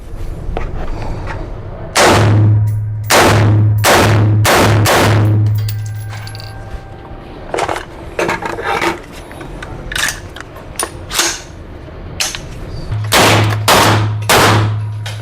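Five sharp, loud shots from a Taurus T4 rifle at a firing range, fired in a quick uneven burst, followed by clatter and handling noises, then another short burst of shots near the end.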